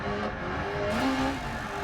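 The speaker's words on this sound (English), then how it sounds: "as the car randomly drops out of gear again, nearly causing me to crash" Rally car engine in the DiRT Rally video game, a steady loud drone with shifting tonal whine as the car transfers weight and drops out of gear, with tyre and road noise underneath, no voices.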